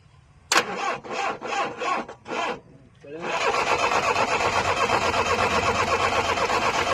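A Swaraj tractor engine cranks over in five short bursts, then catches and runs at a high, sustained rev, loud and close.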